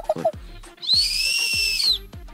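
A sustained high whistle, like a bird call, holds steady for about a second after a few short chirpy notes, with faint background sounds.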